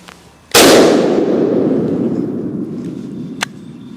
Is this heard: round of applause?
no